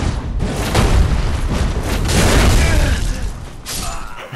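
Quakestone Hammer weapon art slam in Dark Souls 3 PvP, a heavy booming impact with rumbling low end, landing amid continuous game noise across the clip.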